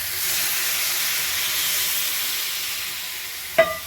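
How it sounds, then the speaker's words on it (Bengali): Water poured into a pan of frying mixed winter vegetables for a Bengali chorchori sets off a loud, steady steam hiss and sizzle, ending in a brief sharp metallic clink. "আর এটার মধ্যে আমি জল দিয়ে দেবো।"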